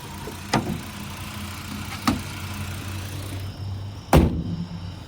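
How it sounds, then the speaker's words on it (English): A 2007 Lincoln Town Car Signature Limited engine hums low and steady throughout, broken by three sharp clicks or knocks, the last one loudest. "there's the engine. You can hear it running."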